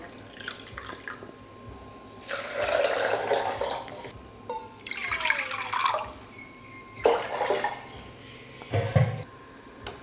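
Water splashes and trickles into a pan in several short bursts while making kozhukattai batter with rice flour, with faint clinks of cookware and a steady low hum between pours.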